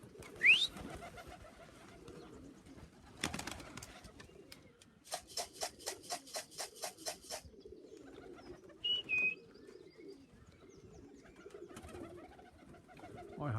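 Young pigeons coo and call in a loft, with a burst of rapid rhythmic cooing pulses in the middle, a brief whistle-like note, and a sharp flutter or clatter near the start, all fairly close.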